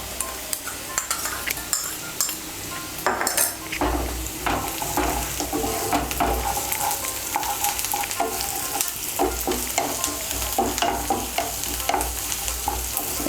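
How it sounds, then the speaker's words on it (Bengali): Chopped garlic fries with onions in hot oil, a lively close sizzle broken by frequent spoon-stirring clatters and scrapes against the pan, with no talking. "এর মধ্যে আমি রসুন কুচিটা দিয়ে দেব।"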